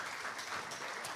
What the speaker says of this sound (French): On vous applaudit également.